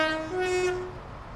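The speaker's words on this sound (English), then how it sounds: "It's a better horn." Train horn in a train simulator game sounds a single sustained two-tone blast lasting about a second, loud and close, then fades into quiet rail ambience with no talk.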